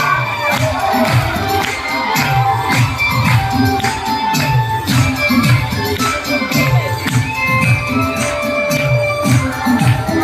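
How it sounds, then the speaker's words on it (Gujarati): Many children in a seated audience at a BAPS gathering clap loudly for dancing swamis, a dense, continuous rattle of hand claps mixed with crowd cheering and shouts. "બધા બાળકો જોરથી તાળી પાડો, જોરથી તાળી પાડો"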